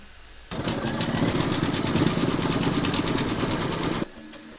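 A sewing machine stitching quilting rounds through layered top fabric of a crazy patch notebook cover, running in one steady, fast, close mechanical whir for about three and a half seconds before stopping abruptly, with no voices.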